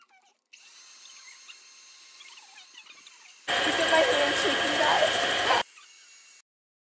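An electric mixer with a whisk attachment runs with a steady whir, then turns much louder and harsher for about two seconds before easing back to the softer hum.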